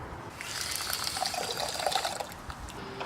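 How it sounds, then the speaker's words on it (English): Vanilla poured into oats in a cooking pot for a vegan cheesecake oats recipe, a steady close liquid trickle running continuously for about three seconds with no voices. "And add some vanilla."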